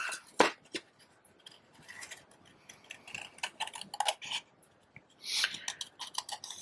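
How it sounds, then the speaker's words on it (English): Scissor blades snip through a paper card image in small, irregular clicks and crisp cuts, heard up close and fairly quiet, with soft handling noises between them. "I like to let the blades of my scissors do the work and turn the paper as I'm closing the blades of my scissors."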